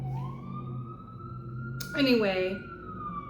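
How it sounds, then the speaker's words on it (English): Emergency vehicle siren wailing in New York City, a steady rising tone heard mid-distance while a person speaks over it. "I'm in New York, so you're gonna hear sirens always when I start."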